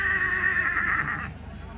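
A stallion neighs loudly and close by, one drawn-out whinny with a bright, shaky tone that cuts off abruptly, followed by a quieter tail of low background noise.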